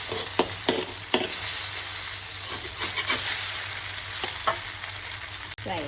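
Pad thai with egg is stir-fried in a wok, with a constant loud sizzle broken by irregular scraping strokes of the spatula and no talking.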